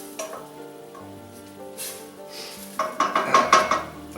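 Wine reducing in a pan with shrimp and spinach pasta, a soft low sizzle and bubble under faint clinks, then louder crackling spits and utensil scrapes toward the end.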